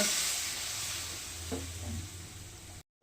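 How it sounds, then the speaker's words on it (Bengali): Hot water poured into a pan of frying tomato for a Bengali fish curry with yam: a steady loud sizzle and hiss with some bubbling, close up, fading out near the end, with no talking. "টমেটো দিলাম কষিয়ে নেব কষানো হয়ে গেছে এবার গরম জল করে রেখেছিলাম দিয়ে"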